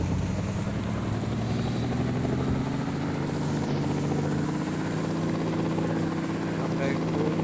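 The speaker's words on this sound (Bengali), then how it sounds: "এই যে ভাই এসে পড়ছে আমাদের হেলিকপ্টার।" A game helicopter in the India Bike 3D video game keeps up a loud continuous rotor and engine drone, with steady rising tones throughout, while someone talks over it.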